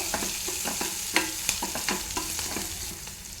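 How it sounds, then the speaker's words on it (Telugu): Green chillies and onion fry in plenty of oil for egg upma, a continuous sizzle broken by repeated scraping clicks of a spoon stirring the pan close by. "ఈ పచ్చిమిర్చి, ఉల్లిపాయ ఆయిల్లో మంచిగా ఫ్రై అవ్వాలి."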